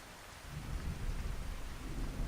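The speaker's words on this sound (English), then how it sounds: "this is the beauty of true storms. Look at that rain." Steady heavy rain and rumbling thunder from a Skyrim storm mod, a dense, continuous downpour with a low thunder roll underneath, loud and close with no talk.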